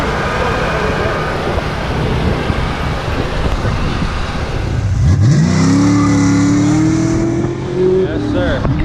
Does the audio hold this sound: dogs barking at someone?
no